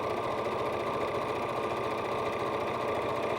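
A sewing machine runs steadily while stitching hexagon quilt fabric blocks together, a close, continuous mechanical hum with a fast needle chatter and no talking.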